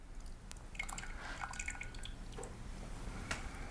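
Melted butter pours into a mixing dish in a soft, brief liquid trickle and drip, quiet and close in a home kitchen with no voices.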